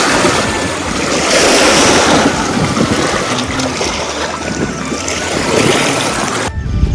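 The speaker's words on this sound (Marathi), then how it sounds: "ते पाणी असं लाटा मारायला जवळच्या जातं" Water waves lap against the shore of a large dam reservoir on a cool, overcast day, a loud, continuous wash of surf mixed with heavy wind buffeting the microphone, ending abruptly.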